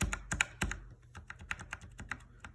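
Typing on a mechanical keyboard fitted with tactile-only Cherry switches, a run of crisp, fairly soft clacks at an uneven pace, close up and alone with no voices.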